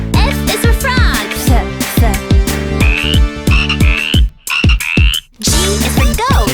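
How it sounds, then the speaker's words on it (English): Frog croaking in repeated rhythmic pulses, set against loud, bouncy children's song music with a steady beat. "F is for frog. Ribbit, ribbit."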